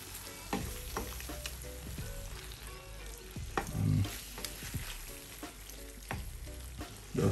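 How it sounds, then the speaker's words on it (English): Plantain frying in a pan with a steady sizzle, broken by repeated scraping and clunking as a utensil stirs and turns the pieces; the stirring knocks come in irregular bursts, close and fairly loud. "I'll just give that a final stir"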